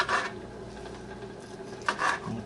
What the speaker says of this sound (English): all the excess fat, I'm going to cut that off